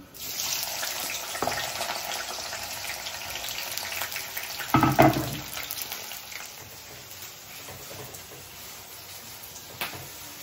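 Onions and green chillies sizzle in hot oil in a pan, a steady close hiss and crackle throughout, with a louder burst of spattering midway before settling back to a gentle fry.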